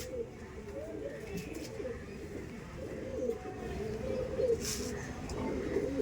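A pair of lambari pigeons, male and female, coo in low, throaty bursts repeated close by, with someone speaking softly in the background.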